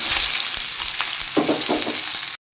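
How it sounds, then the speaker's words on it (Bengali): Chopped onions hit a little hot oil in a wok for chilli chicken, setting off a steady, close sizzle with a few crackling bursts, cut off abruptly near the end. "এবার দিয়ে দেব কেটে রাখা পেঁয়াজ।"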